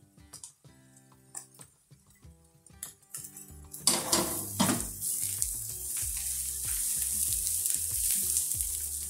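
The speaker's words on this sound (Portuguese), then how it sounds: "Aí vou acrescentar aqui e refogar até ela dar uma leve murchada" Grated carrot sautéing in a pan for farofa, starting with scattered clinks of utensil against pan, then a steady bright sizzle that builds and holds to the end, with occasional stirring clatter and no talk.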